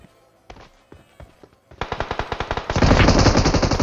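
Video game gunfire in a battle royale match: scattered single shots first, then a close, loud burst of rapid automatic fire that grows denser and more intense toward the end.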